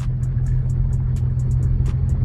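Nissan 350Z rolling down a mountain road, its engine a steady low rumble throughout, with faint high ticks and rattles from the car scattered over the drone.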